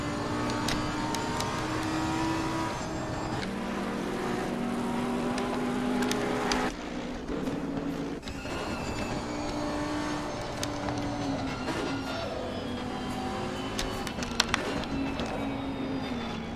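Onboard a Lamborghini GT race car at Bathurst in the Assetto Corsa Competizione racing game: a loud, continuous engine howl rises and falls through gear changes and braking, with other cars' engines nearby.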